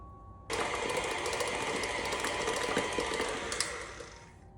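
An electric mixer creams cheesecake ingredients at medium-high speed. It kicks in abruptly and holds a steady, loud, close whirring drone with a faint rattle, and no one talks over it.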